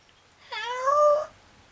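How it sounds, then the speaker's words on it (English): A barn cat gives a single drawn-out meow, rising and then falling, clear and fairly close against a quiet background. "One of the barn kitties is up here."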